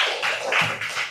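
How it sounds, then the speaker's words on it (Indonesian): Classroom of students applauding together, a dense patter of hand claps that swells and dips in waves over about a second, moderately loud and fairly close. "tepuk tangan untuk semuanya"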